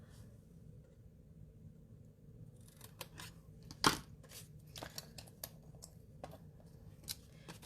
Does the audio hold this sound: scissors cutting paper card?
yes